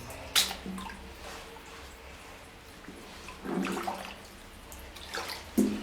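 Water is stirred up inside a Minnesota storm drain, with foul-smelling orange water sloshing about. Scattered drips and wet squishes echo faintly, and a louder slosh comes about midway through, without voices.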